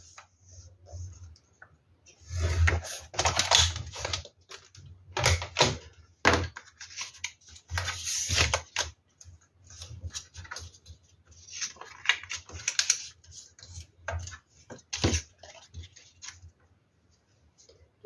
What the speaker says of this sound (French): Ce que je vais faire, c'est déjà marquer les lignes de pli,